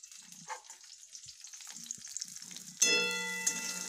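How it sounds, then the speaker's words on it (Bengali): Chopped garlic, green chillies and onion frying in oil, a light sizzle with stirring scrapes, then a bright metallic ring of a utensil striking the pan near the end. "দিয়েছি তেল পরিমাণ মতন, এখন দিয়েছি রসুন কুচি, কাঁচা লঙ্কা,"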